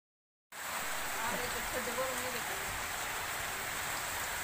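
Rain falls steadily outdoors at a home where a 50 hp Balwan tractor is being worked on, a constant hiss starting abruptly after a short silence and continuing evenly.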